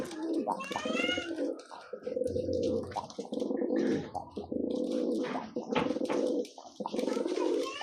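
Pigeons at a pigeon-flying breeder's loft coo in low, throaty bursts, one after another, with other birds chirping faintly above; the cooing stays steady and fairly close throughout.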